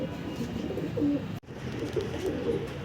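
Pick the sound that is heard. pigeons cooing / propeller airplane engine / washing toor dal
pigeons cooing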